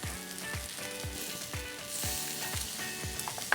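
Wagyu beef sears on a yakiniku grill with a loud, close, continuous sizzle, punctuated by regular soft taps or scrapes roughly every half second.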